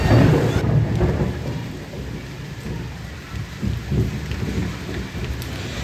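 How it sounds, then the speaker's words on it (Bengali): Heavy rain pours steadily with deep rumbling thunder, loudest at the start and then rolling on beneath the dense downpour, with no voices. "অনেক দিন পর এরকম ঝমঝমিয়ে বৃষ্টি হচ্ছে। আর আজকে খুব বাজও পড়ছে"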